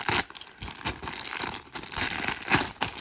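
A plastic zip bag from a Temu package is cut open up close, giving quiet, irregular crinkling and crisp tearing bursts over a few seconds with no speech.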